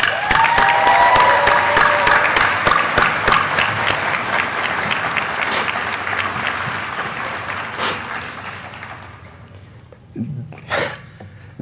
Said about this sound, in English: Now let us give you a round of applause.